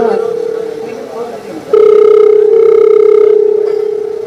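A steady telephone dial tone hums loudly while a call is being placed, briefly breaking off before returning stronger with a higher overtone; a voice murmurs faintly at the start.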